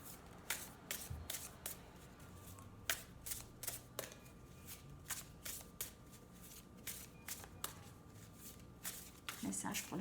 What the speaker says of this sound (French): je vais tirer une carte de mes nouvelles cartes de Music Oracles